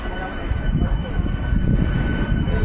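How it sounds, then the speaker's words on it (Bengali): A Howrah–Kharagpur local train rumbles loudly nearby as it departs Santragachi Junction station, a deep continuous roar with a faint steady hum on top. "সাঁতরাগাছি থেকে ছেড়ে দিল আমাদের ট্রেন।"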